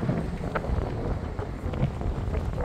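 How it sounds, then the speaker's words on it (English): Strong wind buffets the microphone at a scenic overlook high above El Paso, a steady low roar with gusty rumbling that continues the whole time, and no voices. "A lot of wind up here, obviously."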